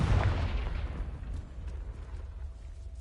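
A booming fiery blast from the Confringo spell in the Hogwarts Legacy game, a heavy low impact at the start that decays into a rumbling, crackling tail.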